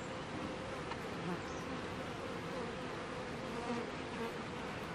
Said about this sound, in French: Colonie qui va très bien, pour vrai, cet essaim-là est incroyable.